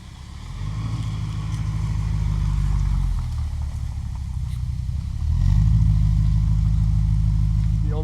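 A 1970 Mercedes-Benz 300SEL 6.3 on the move, its engine a steady low drone that swells as it pulls away, dips briefly, then rises louder again with the revs, heard close from inside the car.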